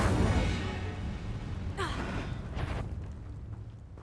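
An Incendio fire spell in Hogwarts Legacy bursts out as a loud, broad whooshing rush that slowly fades over several seconds, with faint crackles trailing behind.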